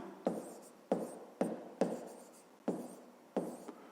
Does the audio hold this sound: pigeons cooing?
no